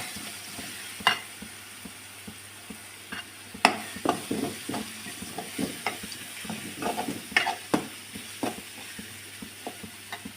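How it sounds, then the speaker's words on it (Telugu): Chicken pulao masala frying in a pan with a spoonful of chili powder, with a steady sizzle broken by repeated sharp scrapes and clinks of a spoon stirring against the pan, close up and with no voices. "ఇప్పుడే ఒక స్పూన్ కారం కూడా వేసుకొని బాగా ఫ్రై చేసుకోవాలి"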